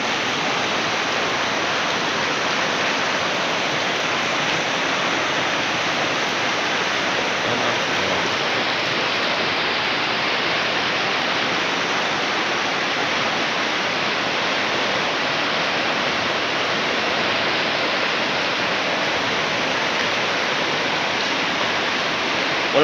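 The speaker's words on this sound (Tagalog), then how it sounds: "Wala pa rin tigil yung ulan mga ka-idol" Heavy rain pours down continuously with rising, rushing floodwater, a dense, steady, loud wash of noise with no pauses throughout.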